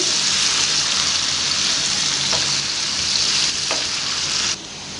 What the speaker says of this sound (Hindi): लाइट ब्राउन होने तक, सुनहरी होने तक हम इसे फ्राई कर लेंगे